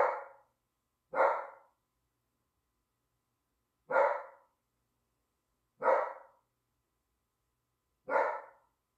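Dogs bark indoors in five separate single barks spaced a couple of seconds apart, clear and moderately near against an otherwise silent room.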